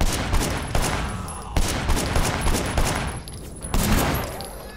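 Rapid bursts of gunfire from the video game Sleeping Dogs, loud and dense, with several volleys crackling in quick succession across the stretch.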